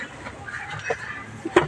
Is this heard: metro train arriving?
no